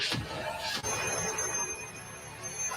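A telephone rings in a thriller film scene about a black phone, with a sharp high metallic bell burst followed by a sustained ringing tone over a dark, noisy background.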